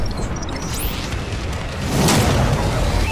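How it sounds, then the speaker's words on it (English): Bombing-run explosions from the video game Call of Duty: Advanced Warfare produce loud, dense rumbling booms with a thick wash of noise that grows heavier toward the end. "Friendly bombing run clearing the way."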